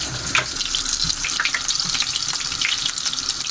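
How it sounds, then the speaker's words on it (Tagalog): Butter and oil frying in a pan while chicken nuggets à la king are being made at home, a steady close crackling sizzle with faint watery clatter, no voices. "Nagpiprito lang ako."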